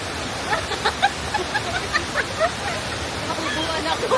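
Hulugan Falls in the Philippines roars as a constant wash of broadband rushing water, with faint voices and scattered sounds of people mixed into the steady noise.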